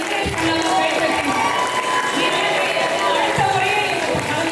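An audience claps for prize-winning children at a Tamil festival event, a steady wash of applause from a crowd, moderately loud, with voices mixed in.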